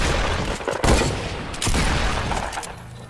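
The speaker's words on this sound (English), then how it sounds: "I just got shot." Gunshots ring out in a Wild West mode video game, a loud blast near the one-second mark followed by further bangs and a sustained crackling mix of fire, all without speech.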